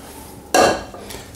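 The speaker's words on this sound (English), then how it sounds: "Scrape it all out." A utensil scrapes polenta from a pot onto a plate in one short, close metallic scrape, followed by a fainter second touch.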